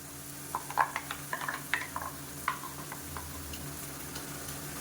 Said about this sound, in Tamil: இதை நல்லா வதக்கி விட்டுக்கலாம் எண்ணெயில் மீடியமான ஃப்ளேமில் வதங்கட்டும்